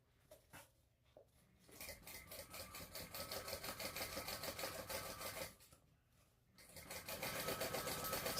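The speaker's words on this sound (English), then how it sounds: "I'm just going to fold these edges back and top stitch." A sewing machine top-stitches the folded edges of a waterproof canvas bag, its rapid needle hum quiet and close, running in two long bursts separated by a short pause.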